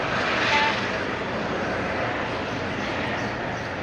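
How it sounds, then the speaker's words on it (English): A helicopter taking off in Dubai, a steady loud rotor and engine roar that stays fairly constant, with a brief faint voice early on. "there's a helicopter taking off."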